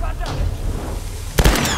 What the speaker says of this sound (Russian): А, нет, все-таки он бросил динамит.